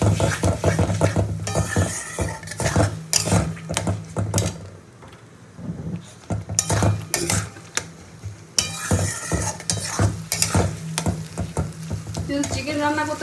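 Spice paste of dried red chillies and ground cumin for a chicken curry is stirred and fried in a pan, with a continuous sizzle broken by repeated scraping strokes of a spoon against the metal, close and fairly loud, briefly quieter midway.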